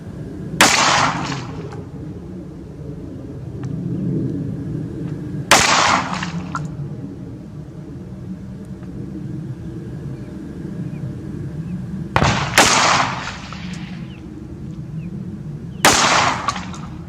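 Gunshots from a character firing at a target in a video game, four sharp cracks spaced several seconds apart over a low background rumble, no talking.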